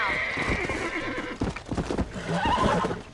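A horse in Red Dead Redemption neighs and whinnies repeatedly while being broken in, hooves clopping and stamping between the calls, loud and close, with game voices talking over the struggle.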